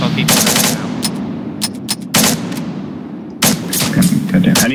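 Automatic gunfire laying down suppressing fire in a multiplayer shooter video game, loud rapid bursts and single shots in several clusters over constant rumbling background noise.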